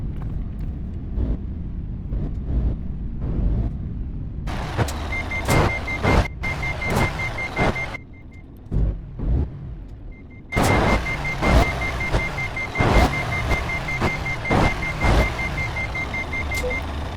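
A truck's reversing alarm beeps in a fast, even series while the vehicle backs up with an engine hum in Euro Truck Simulator 2. The beeping stops briefly, then resumes, and several louder clunks punctuate it.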